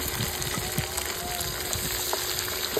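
Ginger, curry leaves and other crab roast ingredients sauté in a hot pan, giving a steady close sizzle with small irregular crackles and pops.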